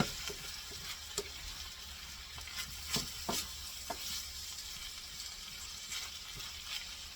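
Flour cooks in oil in a pan, giving a soft, even sizzle with occasional light pops and stirring scrapes, quiet and close with no voices.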